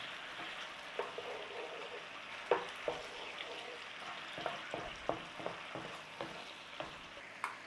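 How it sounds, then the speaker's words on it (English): Cooked garlic being stirred into pork adobo in a pan, with a soft continuous sizzle under repeated light scraping and tapping strokes of the utensil, fairly quiet and close. "Let's have that in there. Give that a little stir through."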